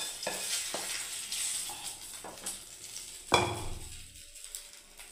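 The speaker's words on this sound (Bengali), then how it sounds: "সুজির উপমাটাকে বন্ধুরা আমি ফোড়ন দিয়ে দিচ্ছি" Spices for tempering semolina upma crackle in hot oil as a quiet, close sizzle, with a few sharp spoon taps against the pan and one sudden hissing burst near the end.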